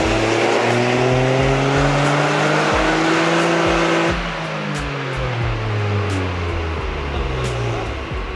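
A 2023 Toyota GR Corolla revs hard on a dyno in two-wheel drive mode, its engine note climbing loudly through the gears before easing off into a steady lower drone.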